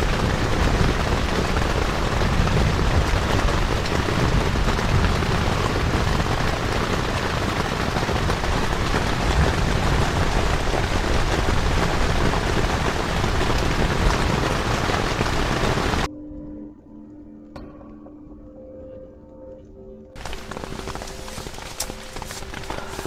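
Heavy rain drums steadily and loudly on a camping tent at night, a dense continuous roar that drops away abruptly near the end before returning more lightly.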